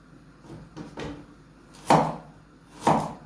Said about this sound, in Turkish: Havuçlarımızı Doğradım hemen hemen.